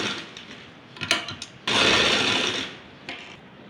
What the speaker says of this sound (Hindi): अब हम एक सिलाई इसकी चारों तरफ लगा देंगे।